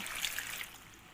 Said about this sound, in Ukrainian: буду додавати сюди 2 літра води